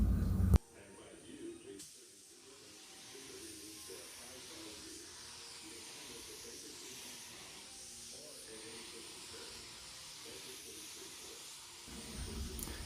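Spray gun laying a heavier final flow coat of clear on the running boards of a Chevy truck during a DIY paint job, a steady faint hiss running almost throughout with a short louder burst at the start and end.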